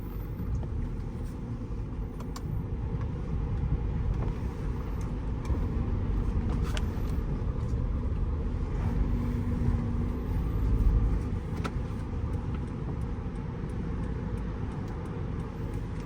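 A Toyota Vellfire 2.4 minivan on a test drive produces a steady, low cabin rumble of engine and road noise throughout, moderately loud with a slight swell near the middle.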